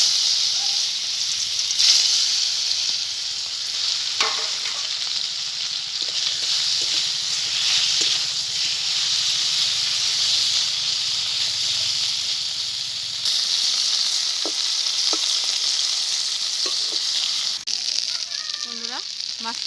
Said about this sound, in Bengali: তেল গরম হয়ে গেছে, এবার মাছটাকে ভেজে নেব।